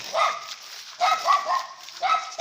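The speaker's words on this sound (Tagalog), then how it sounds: "Ayan po yung aso, tinatakulan ako." A dog barks three times in a rural setting where bamboo is being carried, each bark loud and close with a short gap between, no talking heard.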